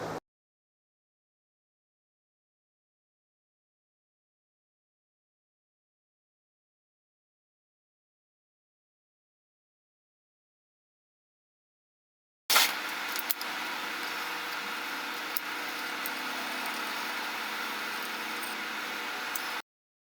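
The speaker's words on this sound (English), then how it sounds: "Off to the wire wheel." A bench-mounted wire wheel scrubs a metal C-clamp, a steady, loud broadband grinding whir that starts abruptly after a long silence and runs unbroken for about seven seconds.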